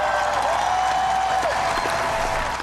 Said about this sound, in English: President Obama's call to close Guantanamo drew some of the loudest applause in this Berlin speech today